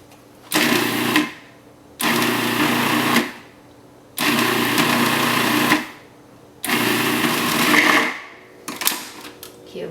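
Food processor pulsing crostata dough of flour, milk and vanilla in four long whirring bursts separated by short pauses, loud and close, ending with a brief clatter.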